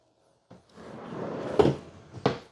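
A small hidden drawer in an RV's rear kitchen, in a 2024 Heartland Big Country 3502RKI fifth wheel, slides with a soft wooden rumble and ends in two close, sharp knocks as it shuts.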